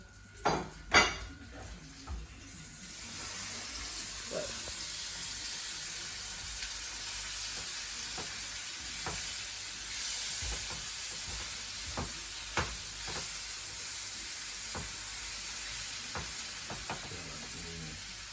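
Tomatoes hit a hot frying pan with a couple of clattering knocks, then a loud, steady sizzle and crackle of frying that goes on close up, with light pan and utensil clinks.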